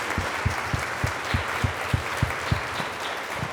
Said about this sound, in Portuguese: Vamos dar uma salva de palmas de ação de graças.